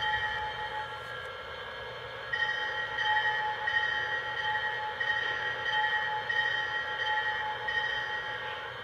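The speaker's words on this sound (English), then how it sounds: "Here's the bell." The bell of a Lionel Union Pacific FEF-3 model train engine rings in a steady, repeating rhythm of evenly spaced clangs over a low mechanical hum, close and clear.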